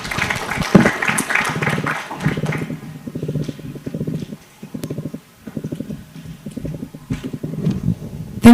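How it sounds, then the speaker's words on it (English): Weak, thin applause from high school students in bursts of scattered clapping, rising and falling with short pauses and fairly near, no talking. "Baricho, the claps are not full, they're not energetic."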